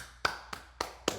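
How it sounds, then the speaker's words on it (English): Four sharp, separate hand claps spaced evenly apart, close and crisp, each ringing briefly in a quiet room. "Go ahead and clap it up."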